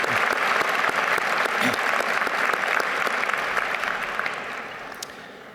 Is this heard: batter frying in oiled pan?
no